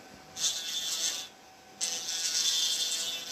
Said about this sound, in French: je tiens ma ponceuse un peu bizarrement là